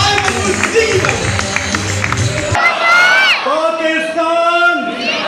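Audience at a Pakistani political gathering applauding and cheering as Federal Minister Khalid Maqbool Siddiqui takes the stage, with dense crowd roar, clapping and whoops that give way to loud, sustained shouts and cheers.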